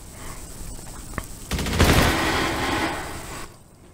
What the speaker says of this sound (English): Firing off the hip.